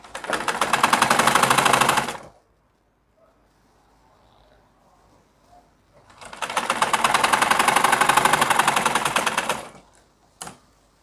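A sewing machine stitches a zipper onto a trouser placket in two long, loud, steady runs separated by a quiet pause, then a brief final burst of stitching.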